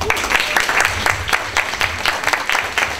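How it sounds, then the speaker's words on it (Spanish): An audience at an academic talk applauds steadily, dense clapping from a roomful of people at close range that runs at an even level for about three seconds. "Un aplauso para Ale."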